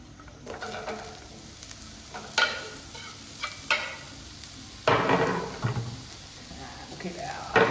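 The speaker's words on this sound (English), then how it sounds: "so we're going to put the onions in." Onions go into a hot pan for Indian fried rice, with an uneven sizzle and frying hiss. Stirring scrapes and knocks land at intervals, growing louder around the middle as the pan is worked.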